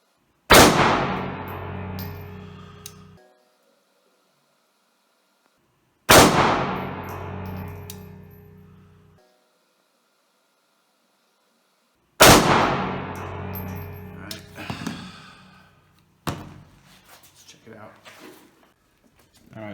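A Bersa Thunder 380 Plus pistol fires at a range. Three loud, sharp shots are spaced about six seconds apart, each ringing out with a long reverberant tail, followed by lighter handling clatter.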